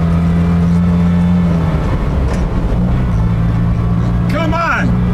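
A Kandi K27 electric car launches hard in a drag race, a loud steady whir rising in pitch under shouting onlookers, with a brief sweeping chirp near the end.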